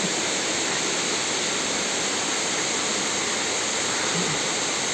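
Güzeldere waterfall in Düzce, Turkey, roaring steadily: a loud, unbroken rush of falling water that stays constant throughout, with no voices.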